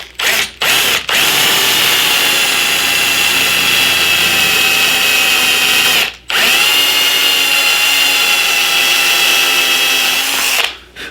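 A power drill boring holes into a door runs loud and close in two long continuous bursts, each spinning up and whining steadily before cutting off, with brief stops between and no talking.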